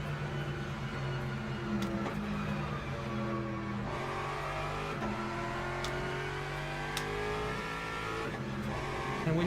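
A race car engine runs at full throttle at Spa in the Le Mans Ultimate racing game, holding a loud, sustained high-pitched drone. Brief gear-shift dips break it up, and faint tyre noise sits underneath.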